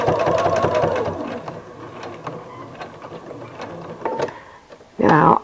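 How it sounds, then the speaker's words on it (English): Sewing machine running steadily as it stitches fabric for a flower appliqué pot holder, a close continuous mechanical whir that slows toward the end, then a brief louder burst of machine noise. "So I'm going to stitch down to that first corner."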